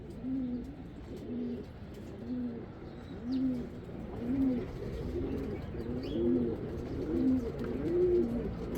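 Rare Sina pigeons coo steadily in repeated soft rounded phrases, close and clear, with faint ambient noise behind and no speech.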